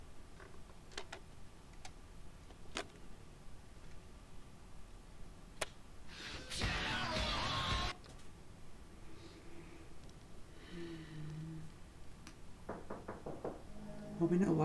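Someone knocks on a door in a TV zombie drama: a few sharp, sparse raps over quiet background, then a loud noisy burst, faint voices, and a quick cluster of knocks near the end.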